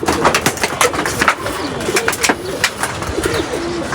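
Pigeons kept on a rooftop coo in a soft, repeated rolling rhythm, several birds close by, with faint wing flutters and chirps against a steady outdoor background.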